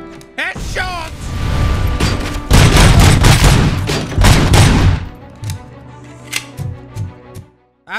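Gunfire in the video game RoboCop: Rogue City, a dense, loud burst of rapid shots that fades into scattered impacts and thuds, with a voice over it.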